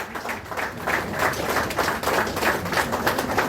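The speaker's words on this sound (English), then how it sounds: "Please, I want all of us to start clapping for them now." An audience at a book launch in Lagos claps steadily for the women, with a dense, continuous patter of many hands that sounds moderately close.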